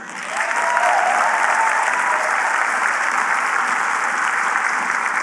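Sustained audience applause at an evening talk, dense steady clapping from a large crowd that swells quickly and holds at full strength, with no speech over it.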